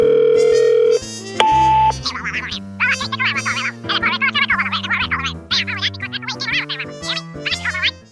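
A telephone dial tone holds steady for about a second, followed by a brief higher beep, then cheerful music with voices over it.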